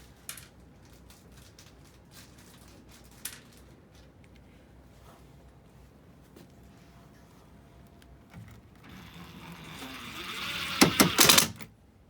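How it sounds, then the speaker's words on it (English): A power driver sinks four mounting screws into a plastic composting toilet during assembly. After a quiet stretch, a rising burst of whirring and grinding starts near the end, with brief rattling peaks. "Then you'll drive the 4 mounting screws into that."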